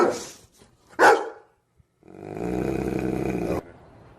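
A basset hound and dachshund mix dog gives a sharp, loud bark near the start, followed after a pause by a long, throaty growling howl lasting about a second and a half.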